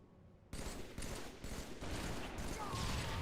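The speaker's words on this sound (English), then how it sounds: "I hear a sniper." Rapid gunfire in a shooter video game, a sharp burst after a quiet opening followed by several loud cracking shots at irregular intervals, dense and close.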